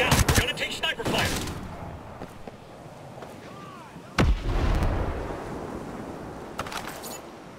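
Gunfire in the video game Modern Warfare 2: a burst of sharp shots at the start and another loud blast midway, with voices and battle noise between them.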